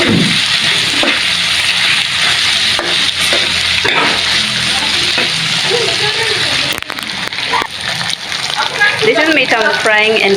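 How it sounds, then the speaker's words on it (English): Meat and onions fry in a pan over an outdoor village cooking fire, giving a steady loud sizzle broken by stirring and scraping, with a voice speaking near the end. "This is meat I'm frying, and I've already added in onions."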